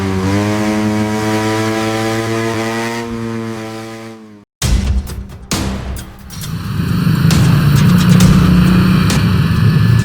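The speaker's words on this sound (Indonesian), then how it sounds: "dia pura-pura tidak mendengar dan tetap mengendarai motornya" A ride-hailing motorcycle pulling away, its engine revving loudly after a steady horn-like drone cuts out, then settling into a rough, close engine roar.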